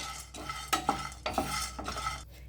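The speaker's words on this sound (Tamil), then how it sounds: "நல்லா கொஞ்சம் நல்லா ட்ரை ரோஸ்ட் ஆகட்டும்" A spoon scrapes through beaten rice flakes dry roasting in a pan for a sweet burfi, making several distinct stirring strokes in an uneven rhythm over soft background noise.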